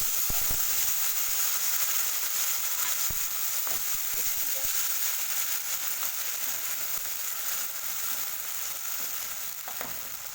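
Spice paste frying in a pan for a Bengali taro greens dish with hilsa fish head, a steady loud broadband sizzle throughout with a few faint stirring clicks.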